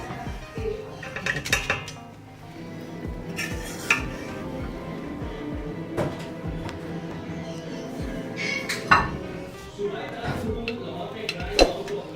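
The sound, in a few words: serving cooked lentil rice pulao from pot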